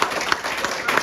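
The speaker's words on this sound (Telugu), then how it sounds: "మేనేజ్మెంట్ ఒకసారి గట్టి క్లాప్స్ ఇద్దాం" A room full of people at a company motivational meeting claps hard together, the dense applause rising into a few evenly spaced, emphatic beats in a brief, close, loud burst.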